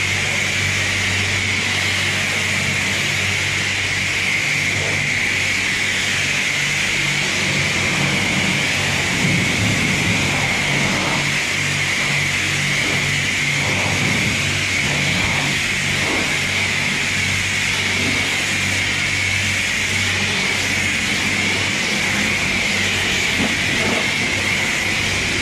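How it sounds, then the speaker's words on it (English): A pressure washer rinses snow foam off a Golf R during a car wash, working from top to bottom: a loud, steady rushing hiss of spray that runs without a break, close by and with no talk. "switch over to rinse, and I'm going to pressure rinse this off"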